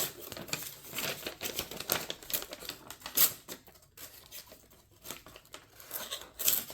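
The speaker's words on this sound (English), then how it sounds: "Cuts paper." A freshly sharpened knife that still carries a burr slices through paper, giving faint, close crinkling and tearing sounds in a steady series of small rasps.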